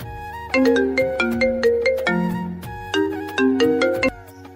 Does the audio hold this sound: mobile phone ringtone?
yes